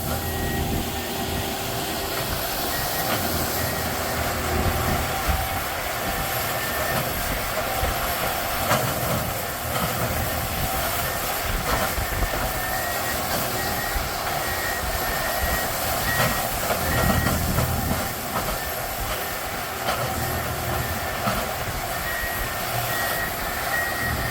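A CSX freight train, I010, rolls past a railroad tie replacement work site, a steady loud rumble and rail clatter filling the whole stretch with no talking.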